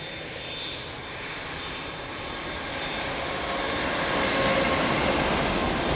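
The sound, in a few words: aircraft landing at Lisbon Airport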